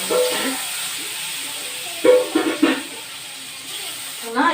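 Paneer rolls frying in oil on a stove over a low flame give off a steady, soft hiss, with brief bursts of a voice over it.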